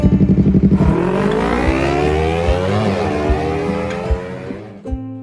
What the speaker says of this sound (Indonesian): Lihat kan, gagah banget motornya.